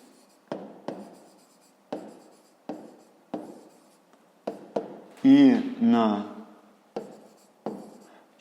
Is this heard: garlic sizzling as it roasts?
no